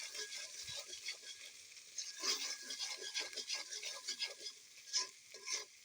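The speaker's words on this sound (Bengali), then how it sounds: "দেওয়ার পর সবগুলো উপাদান খুব ভালো করে নেড়ে চেড়ে নিব।" Noodle ingredients with salt being stirred in a pan, with soft scraping strokes repeating in a quick, irregular rhythm over a faint sizzle. The sound is close but quiet.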